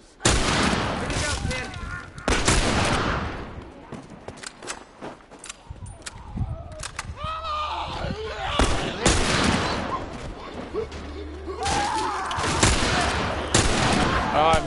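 Gunfire in The Last of Us Part II, a run of loud shots and bursts spread across the scene, mixed with movement and combat noise, with voices speaking at times in between.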